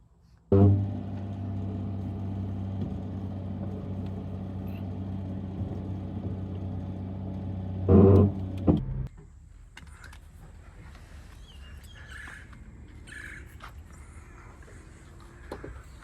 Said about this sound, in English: So we're going to pull the car out.